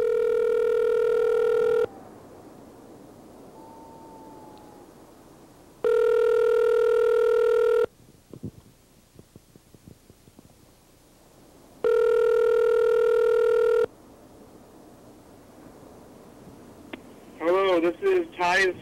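An outgoing telephone call plays repeated ringback tones in long, evenly spaced bursts with quiet gaps between them, then a voicemail greeting begins at the end; a voice is heard in the quieter stretches.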